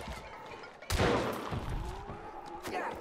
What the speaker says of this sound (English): Stop fucking shooting, man.